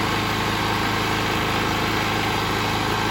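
A GTM3500 portable generator engine runs steadily with a low, even hum and faint vibration, continuous and unbroken, fairly close and not especially loud.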